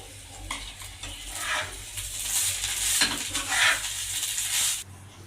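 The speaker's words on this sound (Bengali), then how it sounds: "এবার আবার একটু কষতে দেব পুরটা আমার হয়ে গেছে আমি এটা ধনে পাতা আর গরম মশলা দিয়ে নেড়ে চেড়ে নামিয়ে দেবো" Chicken filling stir-fried with coriander leaves and garam masala in a pan, a close, continuous sizzle with rhythmic stirring scrapes and surges for about five seconds before cutting off abruptly.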